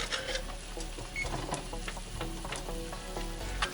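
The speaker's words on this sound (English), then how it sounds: "I'm going to let it simmer for 3 minutes." Indomie instant noodles cooking in a pot on the stove give a steady bubbling, crackling sizzle with faint clicks and soft rattles, close and continuous.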